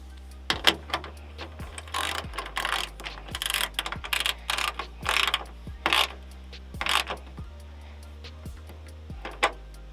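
A ratchet tightens a hood strut bolt on a 2018–2021 Honda Accord, giving repeated quick metallic clicking bursts in an irregular rhythm, close and fairly loud over a low steady hum, with no talking.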